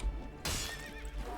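A horse neighs loudly in the medieval battle game Mount and Blade: Warband with the Prophesy of Pendor mod, a sudden shrill whinny with wavering pitch over a din of battle noise and hoofbeats.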